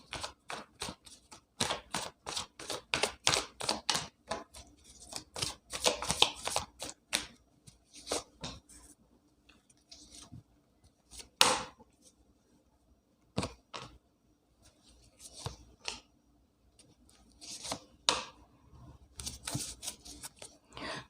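Tarot cards are shuffled and drawn from a second deck, with quick soft riffles and flicks in dense bursts, then scattered slaps and slides as cards are placed, fairly faint and close with no talk.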